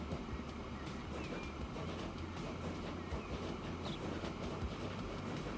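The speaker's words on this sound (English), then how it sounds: "the gradient is a little bit too much for the train to handle" Train in Transport Fever 2 labouring up a steep gradient, a steady low rumble with faint rhythmic clicking of wheels over rail joints, continuous and moderately distant.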